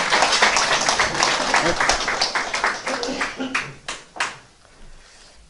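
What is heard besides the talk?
applause for talk show guests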